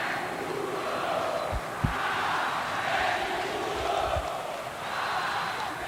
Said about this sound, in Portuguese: Olha, a torcida grita a Edmundo.